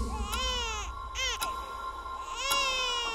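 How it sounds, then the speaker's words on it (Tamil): An infant cries inside a house in a drama scene, with several rising and falling wails separated by short breaths, loud and close. "குழந்தை அழுகிற சத்தம் கேட்டுச்சு"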